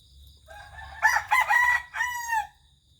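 A gamecock rooster crows loudly and close by, one long drawn-out call over a low background hum.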